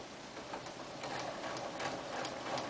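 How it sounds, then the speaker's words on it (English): Rapid mechanical ticking of a sewing machine back stitching a short-sleeve shirt seam, fairly quiet and close, a fast steady chatter with slight surges. "I'm going to go ahead and do some back stitching at the front and back of this seam."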